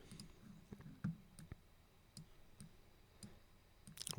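Sparse, faint computer mouse clicks while working in a MIDI editor, a handful of sharp ticks scattered irregularly over a few seconds against quiet room noise, with no talking.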